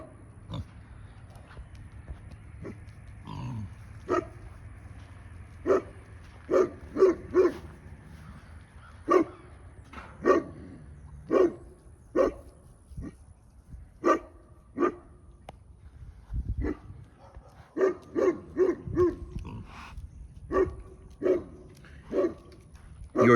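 Dogs barking in repeated sharp bursts, some in quick clusters, with a whimper and pig-like grunting noises between them, heard as a played recording over a low background hum.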